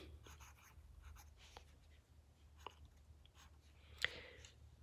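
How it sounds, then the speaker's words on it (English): A pen writes the date by hand on a notebook page in a spiral notebook, making faint, close scratchy strokes in short bursts with a slightly sharper tap near the end, and no voice is heard. "So I'm going to write the date."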